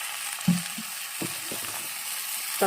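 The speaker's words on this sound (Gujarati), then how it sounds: "હવે અંદર ચીલી સોસ નાખીશું" Paneer vegetable balls and onions fry in a pan with a steady close sizzle as chili sauce is added, with a few soft knocks and scrapes of a spoon against the pan.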